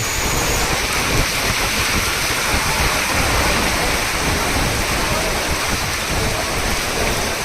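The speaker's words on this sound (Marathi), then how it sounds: "पाऊस इतका जोरात असल्यामुळं रस्त्याला कोणीही चालताना दिसत नाही" Heavy monsoon rain pours down steadily and loudly on a town street in Manchar, a dense continuous roar with no break throughout.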